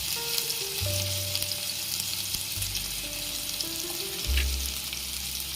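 Chilli and ginger paste sizzles loudly in a frying pan as it is stirred, with close, continuous crackling and scraping of the utensil throughout.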